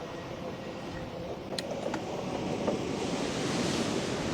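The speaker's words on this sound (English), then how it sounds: "You can hear the waves crashing underneath here" Waves surge and wash beneath a seaside pier at Outer Harbour, a broad, steady rushing that swells slightly louder toward the end, with some wind buffeting and no voices.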